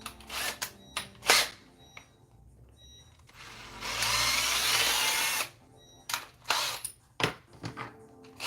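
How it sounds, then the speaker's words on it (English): A power drill bores a half-inch hole through a thin-walled resin piece, running in a steady sustained burst of whining grind with shorter start-and-stop bursts before and after. "You can't just start drilling a 1/2 inch hole in this resin."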